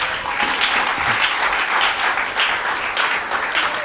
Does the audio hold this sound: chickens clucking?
no